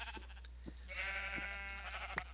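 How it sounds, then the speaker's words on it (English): Sheep in Minecraft give a single wavering bleat that stands out clearly over a steady low background hum, with faint clicks scattered around it. "You see that there are a couple of sheep over here"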